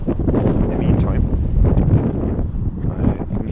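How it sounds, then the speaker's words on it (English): Wind buffets a microphone outdoors, a loud, close, low rumbling that surges and gusts unevenly throughout, with a voice speaking underneath it. "It's getting windy here."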